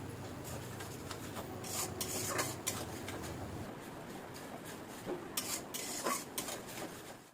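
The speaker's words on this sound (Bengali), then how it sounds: "হাফ কাপ দইয়ের মধ্যে যে কাজু কিশমিশ বেটে রেখেছিলাম সেই দইয়ের মিশ্রণটা এর মধ্যে দিয়ে দেবো। ভালো করে তেলের মধ্যে কষিয়ে নেব।" Spiced yogurt mixed with ground cashew and raisin paste being sautéed in oil for a vegetarian ash gourd kofta curry, a low hiss with repeated spatula scraping and rubbing against the pan, fairly quiet and without voices.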